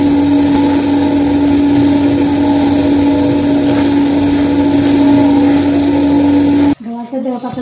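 A household flour mill grinding wheat runs loud and close with a steady whining hum and constant grinding rumble, then cuts off abruptly near the end, leaving a brief quieter moment.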